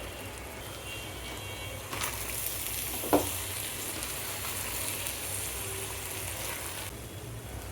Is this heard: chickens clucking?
no